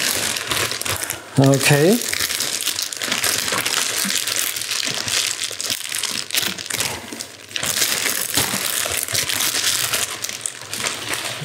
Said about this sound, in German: Befreien wir sie mal von der Folie.